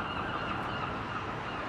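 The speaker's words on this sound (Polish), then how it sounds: "Być może słychać mewy" Gulls call on a snowy day outside a stone church on Union Street in Aberdeen, their honking cries merging into a steady, dense wash of sound with no talking.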